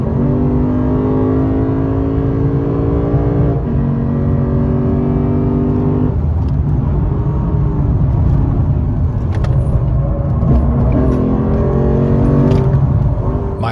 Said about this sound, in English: he piloted the RCF to the edge of every apex and just tossed the car around the track with expertise